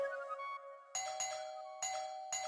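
A doorbell chimes close by indoors, one ringing tone followed by a quick series of repeated bright rings as if the button is held or pressed again and again.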